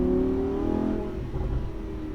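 A Lamborghini Huracan on a race track during a motorsport academy session, its engine note rising loudly and close as it accelerates, then settling into a rougher throbbing drone.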